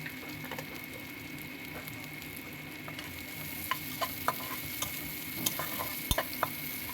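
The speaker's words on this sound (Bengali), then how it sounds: "পেঁয়াজগুলোকে একটু লাল লাল করেই ভেজে নেবো" Onions frying in a pan, cooked until reddish-brown, a steady soft sizzle throughout with scattered faint ticks and clicks of stirring, close and moderately quiet, no talking.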